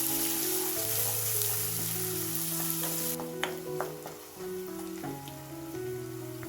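Two medium onions, thinly sliced, frying in oil in a pan, giving a steady crackling sizzle with occasional stirring scrapes beneath a sustained musical tone.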